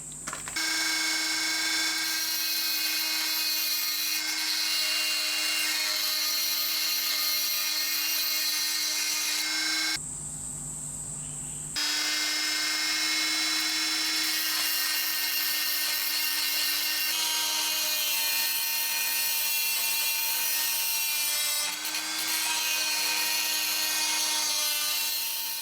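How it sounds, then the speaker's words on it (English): Dremel rotary tool grinding a slot in hard cast iron for a Stuart Turner 10H engine part, a steady high whine held close and loud for about ten seconds, a short pause, then continuing for another fourteen seconds. "I think I'm going to get the Dremel out to do this."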